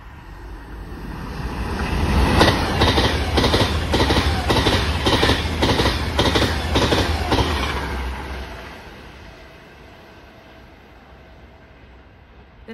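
A train on the Glasgow Central to London Euston line passes close by, its wheels beating a steady run of rhythmic clicks over rail joints. The rumble swells, holds for several seconds, then fades into the distance.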